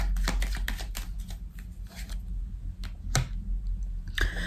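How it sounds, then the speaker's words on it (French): Tarot cards being shuffled and dealt out, with a steady run of soft close-up riffling and flicking, sharper snaps as cards land on a table, and no talking. "On va recouvrir certaines cartes pour clarifier."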